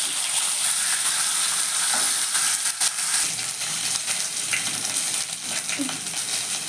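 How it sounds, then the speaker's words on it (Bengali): Steady, loud sizzling of a bhetki fish head frying in hot mustard oil, with a dense crackling hiss that continues throughout. "তেল গরম হয়ে গেছে মাথাটা দিয়ে নিচ্ছি"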